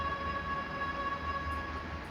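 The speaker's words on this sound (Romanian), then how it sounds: "haideți că sosește trenul de la Brașov" A train from Brașov pulls in at platform 5 of a Romanian station, giving a steady low rumble with faint high tones over it and no one speaking.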